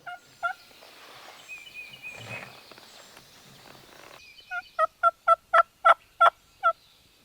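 A wild turkey gobbles during a spring hunt near decoys and a fence, a faint call early under breezy outdoor hiss, then a loud, rapid rattling run of about eight evenly spaced gobble notes, fairly close.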